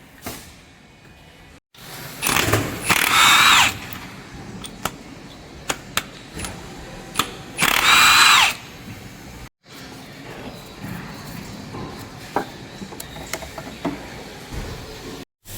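A Milwaukee power tool taking bolts out of a 2014 Honda Accord engine in a repair shop, two loud whirring bursts of about a second and a half each, between ratcheting clicks and metallic handling sounds.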